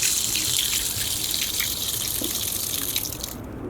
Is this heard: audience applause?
no